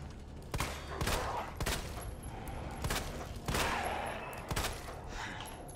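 Gunfire in the Resident Evil video game, a series of sharp shots fired in quick succession against a dense background, moderately loud, with no talking.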